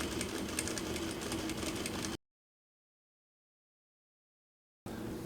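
Juki DDL 8700 industrial sewing machine running a steady close stitching burst for about two seconds, then abrupt silence, with the motor hum resuming briefly at the end.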